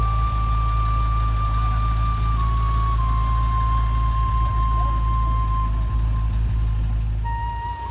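A Mercedes OM352 5.6-litre diesel engine idles in a truck as it creeps along a narrow exit road. The deep, steady rumble stays loud and unbroken throughout, with a thin whine on top.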